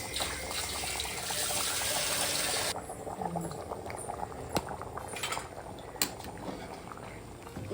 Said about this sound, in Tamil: இப்போ கொதிச்சிடுச்சு பாருங்கள்